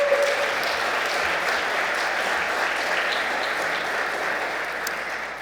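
Sustained audience applause fills a hall during a State of the City address in Jersey City, a steady even wash of many hands clapping that holds level throughout, with no speech over it.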